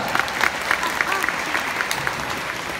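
A small audience at a show with two performing dogs gives a brief round of applause, scattered claps under a busy room with a voice or two mixed in.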